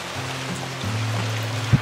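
Steady rain falls outdoors in a park, a soft continuous patter with a low steady hum underneath and one brief dull knock near the end; no one speaks.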